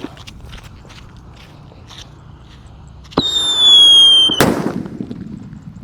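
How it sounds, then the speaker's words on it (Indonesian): A Rambo firecracker goes off inside a hole in the ground outdoors. It starts as a loud, sharp whistling hiss and ends in one close, muffled bang, following a few seconds of quiet ambience. "Kita lihat nanti kalau mercon Rambo dinyalakan di dalam lubang tanah ya."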